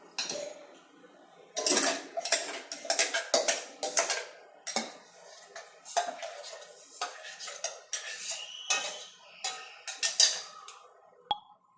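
Ground lentil and coconut batter is scraped into a pot with a utensil, making a series of close, sharp metallic clinks and scrapes in irregular bursts, fairly quiet overall.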